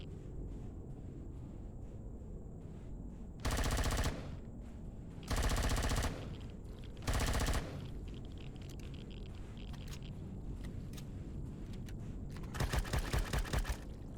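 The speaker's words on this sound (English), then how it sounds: "The SMG's got too much kick for a long distance effect" Submachine gun fire in the sci-fi survival game Empyrion Galactic Survival, three loud rapid bursts of about half a second each, followed later by a longer burst over a steady background hum.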